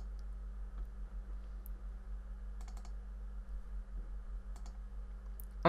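Computer mouse clicks while working in Paint.net, a few light, sparse taps scattered over a steady low electrical hum, faint and close with no voices.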